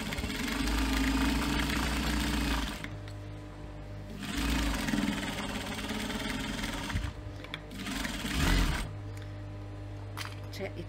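A sewing machine top stitches a clutch purse in three steady whirring runs with short pauses between them, close and loud, with no talk.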